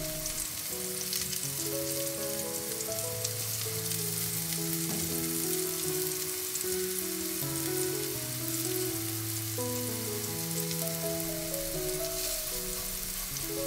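Prawn dangar patties fry in shallow oil in a hot stainless steel pan over a lowered flame, with a steady, close sizzle throughout. Soft background music plays underneath.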